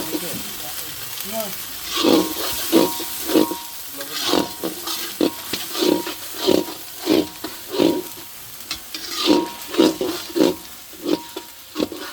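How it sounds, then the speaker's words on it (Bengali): Ginger, garlic and chopped onion fry in a pan with spices for a village goat-meat dish, a steady sizzle broken by rhythmic scraping stirs of the spatula, close and fairly loud throughout. "এখন মশলাটা ভাজা ভাজা করে নিতে হবে"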